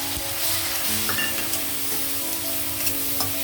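Chopped tomatoes go into a pan of frying capsicum and onion, bringing a steady close sizzle with light stirring scrapes over a few seconds.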